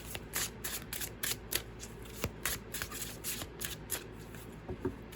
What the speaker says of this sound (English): Let's draw maybe 2 more cards for you